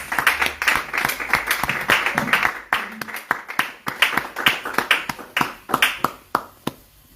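A church congregation claps together in acclamation, a dense run of sharp, quick hand claps that stays fairly close and thins toward the end, with faint voices underneath.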